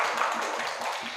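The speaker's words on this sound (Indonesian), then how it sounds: "Tepuk tangan dulu untuk kita semua." An audience at an Islamic boarding school economic forum in South Sumatra bursts into brief, dense hand clapping, a close, continuous patter lasting about a second.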